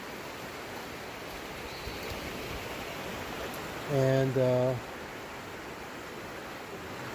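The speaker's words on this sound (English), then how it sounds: "See this beautiful rushing river." A rushing mountain river deep in a canyon on a long-distance trail hike gives a steady broadband roar from a distance, with a short harmonic tone and a brief spoken word partway through.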